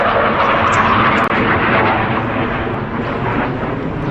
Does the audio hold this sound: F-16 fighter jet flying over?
yes